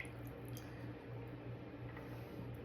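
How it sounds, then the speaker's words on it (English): Olive salad dressing pours softly back into a bowl, a faint, steady liquid trickle with slight splashes and no talk. "So I'm gonna pour it back in the bowl."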